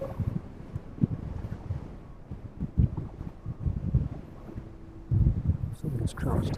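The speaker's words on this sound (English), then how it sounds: "Definitely the strongest wind we've experienced up here anyway." Strong, gusty evening wind at East Midlands Airport buffets an outdoor microphone, producing a continuous low roar that swells in uneven surges throughout.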